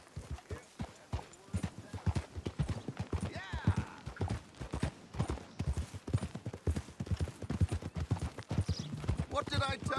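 Horse hooves clip-clop in a steady trotting rhythm while riding in Red Dead Redemption 2, close and prominent, with voices talking over the hoofbeats throughout.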